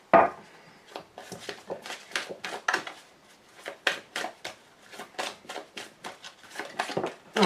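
A deck of tarot cards being cut and handled, giving a run of quick, close, papery slaps and rustles in an irregular rhythm with brief pauses between.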